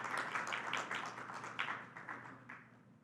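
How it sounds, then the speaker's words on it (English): A small audience claps at a public hearing on flavored tobacco regulation at the Westgate Center, a few seconds of light, scattered clapping that gradually thins out, fairly quiet in a hall with a steady background hum. "Give him a round of applause."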